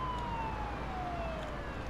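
Wailing siren from an ambulance in the Ambulance Life paramedic simulator game, a single steady tone sweeping slowly downward, moderately faint over a low engine drone.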